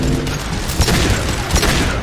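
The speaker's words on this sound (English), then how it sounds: "Impending explosion!" A deep booming explosion in the video game Mass Effect 2, with rolling low rumble and a couple of heavier thumps across a short loud stretch, no voices.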